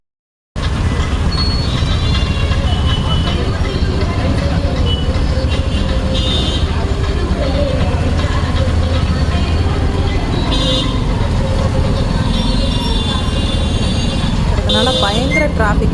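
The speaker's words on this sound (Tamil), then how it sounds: "ஹெவி டிராஃபிக் வெளியில் வர முடியல" Dense, continuous night road traffic close by, with engines rumbling and several car horns tooting throughout, and people talking over the din.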